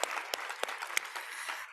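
A round of applause breaks out at a congress, with steady clapping and a few sharp claps standing out across the short burst.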